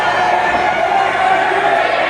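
A wrestling crowd at an indoor independent show in Fredericton, a dense, steady wash of many voices chanting and cheering with no clear gaps, with commentary talk mixed in over it.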